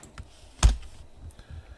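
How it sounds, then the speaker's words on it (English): A single close, sharp keypress on a computer keyboard, the delete key struck once, with a few faint lighter clicks around it in a quiet room. "Click and highlight, delete on the keyboard."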